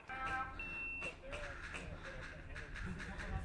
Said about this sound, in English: I don't know what that beep was, but that's not good.